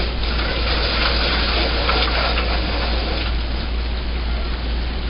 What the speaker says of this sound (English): now we'll slosh it around a little bit